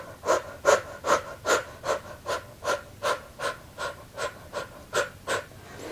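Forceful puffing exhalations from a Bikram yoga breathing exercise, about fourteen sharp, evenly spaced breaths driven from the core, close and clear with no talking.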